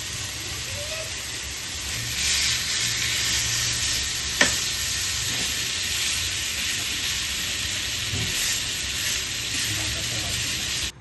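Spiced chicken sizzles in a pan as it cooks. A steady, close frying hiss runs throughout, broken by a sharp clink or two and soft stirring scrapes.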